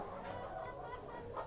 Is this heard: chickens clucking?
yes